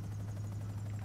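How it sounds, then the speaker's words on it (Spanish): A combat helicopter in GTA Online drones with a steady, loud low rotor hum and buzzing engine tone, continuous and close throughout. "Hay otro helicóptero de combate ahí."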